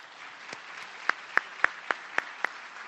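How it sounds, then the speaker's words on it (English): At a dental conference meeting in Seoul, a lecture ends with a handful of distinct hand claps, about seven in quick, slightly uneven succession. The claps are sharp and fairly close over a quiet hall rather than a full wash of applause. "And please give a big round of applause to Dr. Takeo, please."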